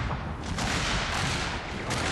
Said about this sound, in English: getting tore down just by constant rifle fire or musket fire going down from the Confederate line